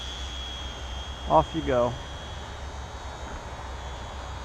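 A HobbyZone Champ RC airplane's electric motor whines steadily at about half throttle as the plane is hand-launched and climbs, a faint, continuous hum running under a brief spoken phrase.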